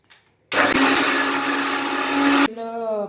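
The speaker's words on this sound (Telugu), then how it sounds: "పేస్ట్ అవ్వకపోతే అండి చిన్న మిక్సీలో పేస్ట్ చేసుకుంటాను." A small kitchen mixer grinder whirs loudly and steadily for about two seconds, grinding a wet masala paste with water, then stops abruptly and a voice speaks.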